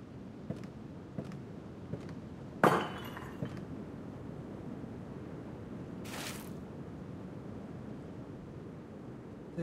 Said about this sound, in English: The window's broken.